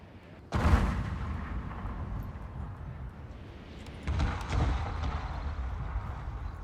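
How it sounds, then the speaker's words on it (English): Artillery barrage in Shogun 2: Fall of the Samurai, a heavy booming blast opening the stretch, then sustained rumbling with a second swell of distant firing partway through. "Full on artillery barrage here"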